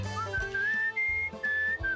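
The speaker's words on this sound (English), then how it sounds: "Which means turning off the music so I can whistle to myself." A person whistles a wandering melody to themselves, clear and close, with sustained notes that glide and pause, set against a soft low musical backdrop from a game.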